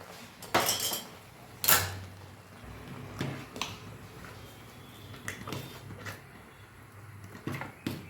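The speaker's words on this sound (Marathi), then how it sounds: "सारखं हलवत राहायचं आहे" A spoon stirs a sabudana mixture in a pot, with several sharp metallic clinks and knocks spaced irregularly over soft scraping, close and fairly quiet.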